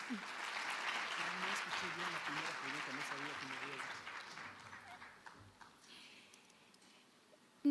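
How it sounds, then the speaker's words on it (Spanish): A business summit audience applauds a speaker, steady crowd clapping that gradually fades, with voices faintly under it; the recording is quiet overall. "Un aplauso para él."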